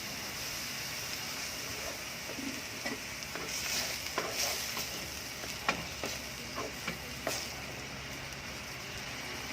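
Ground pork is stirred and frying in a pan, with a steady sizzle beneath clear scraping and clicking as the spatula works the meat, a run of sharp strokes near the end.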